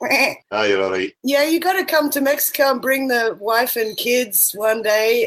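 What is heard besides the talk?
sheep bleating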